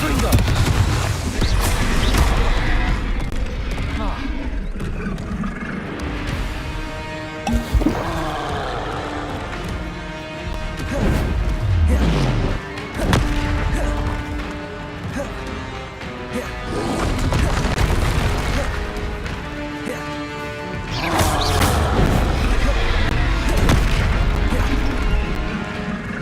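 Confringo blasting spells burst in repeated heavy explosions during combat in the video game Hogwarts Legacy, booming and crashing in clusters over a dense, loud background, with a voice speaking between the blasts.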